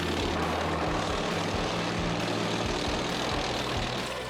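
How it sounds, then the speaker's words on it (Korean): A self-propelled howitzer with a 1000 hp diesel engine pulls away with a loud, steady engine roar and a deep, throbbing low rumble, heard close with no talk. "웅장한 엔진과 함께 힘차게 출발하는데요. 1000마력 디젤 엔진을 장착한 자주포답게 빠른 속도를 자랑합니다."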